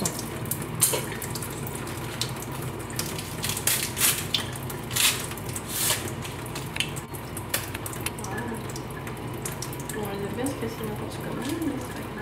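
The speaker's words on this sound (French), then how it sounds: "Et là je vide mon eau" Water being poured out of a cup of instant ramen through small holes poked with chopsticks, a steady close splashing and trickling with some crinkling, under light talk throughout.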